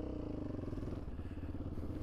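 A Yamaha Raptor 700R ATV rumbling through a rock quarry, its engine a steady close putter with gravelly clatter underneath, no talking.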